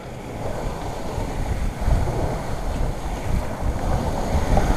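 Steady wind rushing and waves washing against the hull of a sailboat under reefed sails in a force 3 to 4 breeze, on open sea between Palermo and Porto-Vecchio, continuous and fairly loud with no voices.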